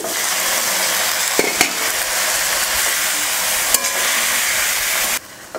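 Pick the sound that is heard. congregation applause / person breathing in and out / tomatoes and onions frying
tomatoes and onions frying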